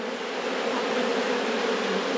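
Honey bees buzzing during a hive inspection of two brood-packed boxes, a dense, continuous close-up hum that holds steady with no voices.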